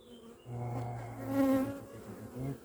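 Bees at an apiary hive give a close, low droning hum that swells and fades as individual insects pass near, over a softer background buzz, with no voices.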